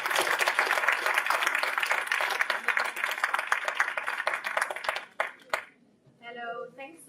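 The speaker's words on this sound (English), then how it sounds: "Now the applause for you" Audience applause at a 2014 electronic book fair keynote, loud and sustained dense clapping for about five seconds, then trailing off into a few scattered claps and near silence.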